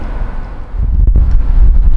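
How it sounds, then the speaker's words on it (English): Low, buffeting wind rumble batters the microphone, growing heavier and steadier after a brief lull, with no voices present. "It's so windy out here, even on the tripod the camera is moving."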